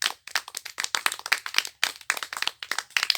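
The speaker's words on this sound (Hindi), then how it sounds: "ताली बजाओ सभी लोग।" A class of schoolchildren clap together in a classroom, loud and close, a steady run of dense overlapping claps with a brief pause midway before the applause picks up again.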